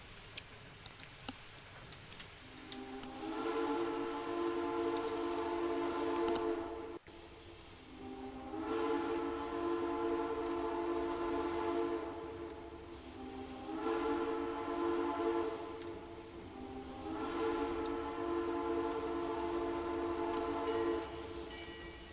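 A heavy 2-10-2 steam locomotive in the Trainz simulator rolls into a yard beside other engines, with a low running rumble under four long, loud, sustained whistle-like tones spaced a few seconds apart.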